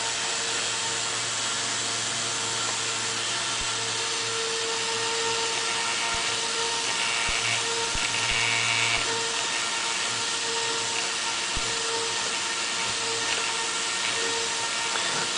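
Fischertechnik model train straining as it drags its loose track, producing a steady mechanical whirr with a low motor hum and faint rubbing that swells slightly midway, close and continuous with no voices.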